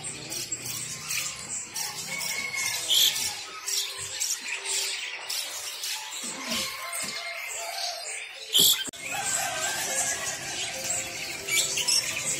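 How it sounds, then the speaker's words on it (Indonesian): Asian pied starlings (jalak suren) sing at a bird market stall, their chirps and whistles mixed with other caged birds and market bustle, steady and moderately near. "jalak suren gacoran aduan katanya, Pak. Udah gacor."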